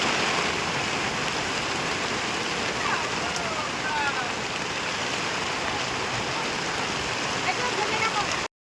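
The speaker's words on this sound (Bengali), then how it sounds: "আর এখন দেখো অনেক বড় বড় ঢেউ আসছে" Large sea waves and rain at Bakkhali beach make a dense, steady roar and hiss that fills the whole stretch, with a voice talking faintly underneath.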